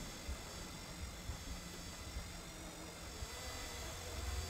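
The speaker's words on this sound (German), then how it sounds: "Ich muss jedes Mal den Helikopter hier benutzen" A helicopter in the zombie video game One Way Home gives off a faint, distant, steady whirring drone with a soft low rotor thump running beneath, unbroken throughout.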